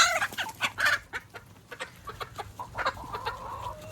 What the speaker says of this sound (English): I think I got a chicken fight.